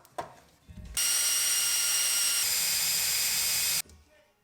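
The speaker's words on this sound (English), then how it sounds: "drill a hole in the center of the bolt" A loud, steady power drill bores into the center of a bolt, running continuously for about three seconds, whining at a high pitch, then stops abruptly, with a few light knocks before it starts.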